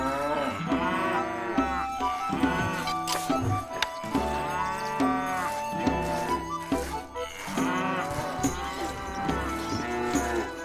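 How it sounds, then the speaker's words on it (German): Cattle mooing in the medieval castle-building strategy game Stronghold, several drawn-out lowing calls repeating over a dense, steady layer of game music and ambience. "Die alte Bessie verhält sich ein bisschen komisch, mein Lord. Viele andere Kühe ebenso."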